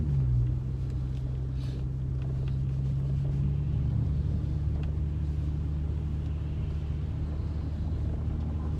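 A rear-wheel-drive car rolls slowly along an icy road, its steady low engine rumble and road drone heard from inside the cabin, even and moderate with no one speaking.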